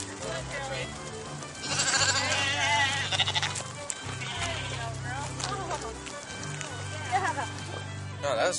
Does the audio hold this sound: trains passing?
no